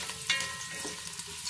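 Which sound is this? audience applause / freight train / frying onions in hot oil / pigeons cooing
frying onions in hot oil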